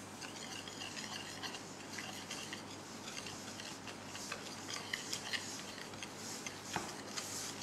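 Faint clinking of a utensil against a bowl as sugar is stirred into cooled water, soft irregular taps and scraping at low level with no voices.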